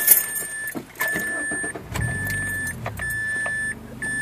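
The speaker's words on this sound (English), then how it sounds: "The car's factory exhaust," A Mazdaspeed Protege running on its factory exhaust: a low engine rumble under a steady, repeating electronic beep that chimes about once a second, close and moderately loud.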